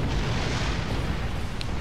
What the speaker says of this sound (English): Hit me with some more torpedoes.